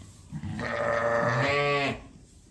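A ewe bleats once during lambing, a loud, drawn-out, wavering call of about a second and a half, close by with faint barn noise around it.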